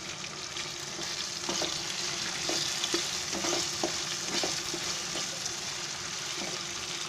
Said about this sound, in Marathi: आपण असं हलवून घ्यायचं